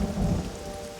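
Rain falls in the Namibian desert, a dense, steady hiss of drops with a low rumbling undertone, continuous and close, no voices.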